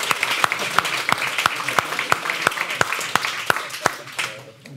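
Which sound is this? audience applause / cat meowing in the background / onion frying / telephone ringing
audience applause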